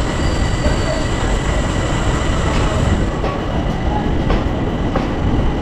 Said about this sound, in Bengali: ট্রেন ছেড়ে যাচ্ছে দেখুন